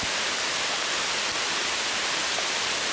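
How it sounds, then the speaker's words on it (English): Heavy rain pouring down outdoors during a flood, a dense, constant hiss of water that fills the whole clip with no breaks and no voices. "Pouring down rain."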